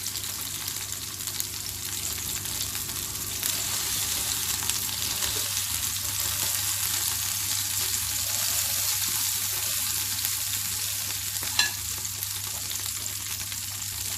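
Homemade turkey kebabs frying in a pan, a continuous close sizzle with fine crackling that holds steady throughout, one brief sharper pop near the end, no voices.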